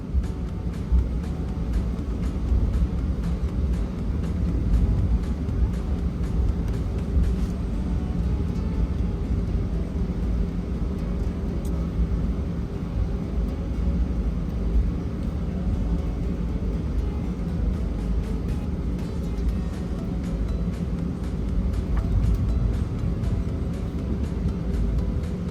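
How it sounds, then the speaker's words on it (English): United Airlines Airbus A320-200 accelerating down the runway on its takeoff roll, heard from the cabin as a loud, steady engine roar and rumble that holds constant throughout, with no talking. "Enjoy the takeoff."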